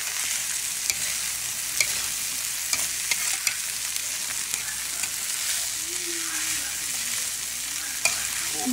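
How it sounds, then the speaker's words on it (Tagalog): Butter and garlic sizzle steadily in a pan while being stirred, with repeated soft scraping clicks from the utensil over a constant broad frying hiss. "para mahalo yung butter at saka yung bawang"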